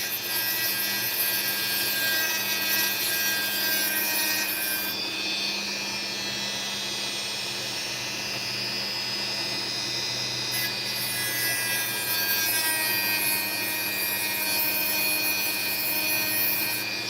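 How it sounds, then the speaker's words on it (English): Small power tool cutting sand out of an opal, a continuous high whining grind with a steady motor hum, close and even, briefly easing twice as the tool lifts from the stone. "Now at the moment, all I'm doing is cutting out the sand"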